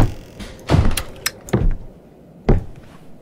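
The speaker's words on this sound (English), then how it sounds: "was that clack noise the door closing" In the horror video game Visage, a door closes with a hard clack, surrounded by several other thuds and knocks that come in uneven bursts through a dark, quiet game space.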